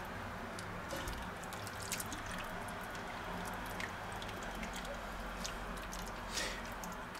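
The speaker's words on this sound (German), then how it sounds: "Jetzt brodelt es auf" A cucumber and pork fillet pot dish with added water simmers at a barbecue, giving a steady, close bubbling hiss with scattered faint pops.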